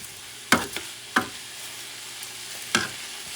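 Dry rice poured into a hot pan and stirred for a cod paella, giving three sharp bursts of scraping and rattling against a low sizzle, each fading quickly, with quiet gaps between.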